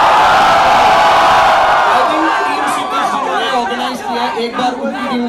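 Loud crowd applause and cheering for a performer at a college fest, a dense roar of clapping and whoops that tapers off after a couple of seconds into scattered chatter and a voice over a microphone.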